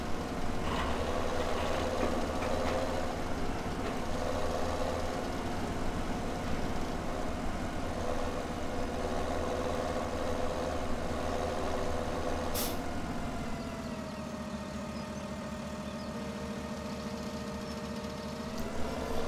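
A tractor engine idles in Farming Simulator 17 with a steady low rumble, constant and moderately close, and a brief sharp click partway through, with no talking.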